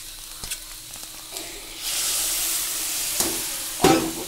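Food frying in oil with sugar is stirred in a pan, starting with a few scattered taps before a louder, steady sizzle builds and is broken by sharper scraping knocks.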